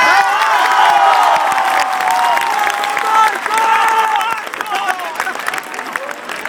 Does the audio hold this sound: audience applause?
yes